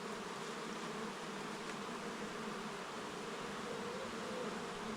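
Honeybees buzzing steadily during an open hive inspection, a dense continuous hum from many bees close by, even in loudness with no pauses and no talking.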